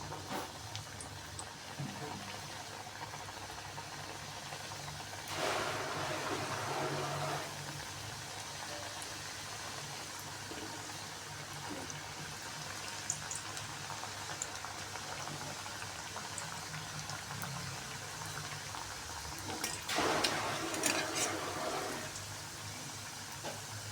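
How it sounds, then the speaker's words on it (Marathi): Balushahi frying in hot ghee give off a steady, close bubbling sizzle throughout, swelling into two brief louder surges of crackling partway through. "आता आपण उरलेल्या बालुशाही आहेत त्या तुपामध्ये तळण्यासाठी घालून"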